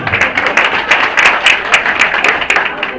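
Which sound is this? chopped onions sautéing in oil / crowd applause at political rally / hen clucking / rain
crowd applause at political rally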